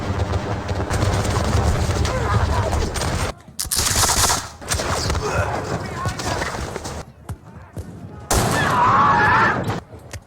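Musket volley fire and battle noise from a Napoleonic wargame, foot guards firing in column, with bursts of massed shots, horse hooves and talk in the background filling the whole stretch, loud and continuous with brief gaps.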